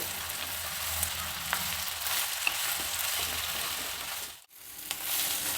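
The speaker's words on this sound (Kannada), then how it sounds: "ಇದನ್ನು ಮೀಡಿಯಮ್ ಫ್ಲೇಮಲ್ಲಿ ಕೈ ಆಡಿಸ್ತಾ ಫ್ರೈ ಮಾಡಬೇಕು" Eggplant frying in oil over a medium flame while being stirred, a dense, steady sizzle with occasional scraping clicks from the spoon and a brief dip in the noise near the end.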